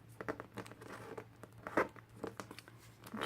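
Origami paper being pressed firmly and folded, a string of quiet crinkles, rubs and sharp creasing scratches at irregular intervals, close and soft, with no voices.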